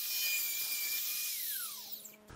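A high-pitched router cuts a hinge mortise in a pallet wood door, a close whining tone that spins down as the motor stops, followed by a short knock.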